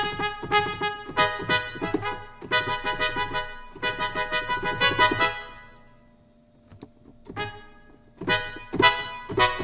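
Short, sharp-attack staccato trumpet notes from the Embertone Chapman Trumpet sample library, played dry without reverb, in quick bursts and phrases with a short pause midway before more detached notes resume.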